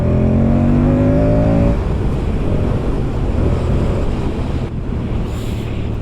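A Moto Guzzi V100 Mandello motorcycle engine revs up in sport mode with a rising whine for a couple of seconds, then fades into steady rushing wind and road noise.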